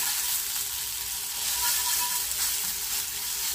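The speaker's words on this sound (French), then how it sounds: "On laisse griller 2 minutes" Spiced green cabbage grilling in hot oil in a pan gives a steady, close crackling sizzle that holds evenly for a few seconds, with no voices.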